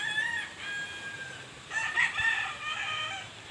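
A rooster crows at a game farm where fighting cocks are kept, a drawn-out call rising in the middle of the clip over steady outdoor background noise.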